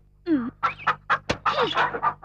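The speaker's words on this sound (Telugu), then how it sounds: "ఓసే చింతామణి, రోజు ఇక్కడ తినేసి గుడ్లు మాత్రం పక్కింట్లో పెడుతున్నావా?" A hen clucks close by in a quick run of about six sharp, throaty calls, loud and clear against a quiet background.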